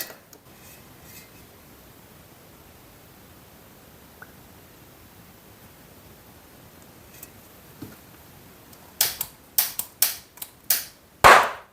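Quiet background with faint ticks, then near the end oxyhydrogen (HHO) gas ignites in a rapid series of six sharp pops, the last one loudest.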